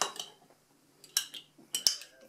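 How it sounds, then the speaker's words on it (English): A spoon stirs barbecue sauce glaze in a bowl for a smoked meatloaf, giving a few quiet, irregular clinks and scrapes close by. "Just stir that up."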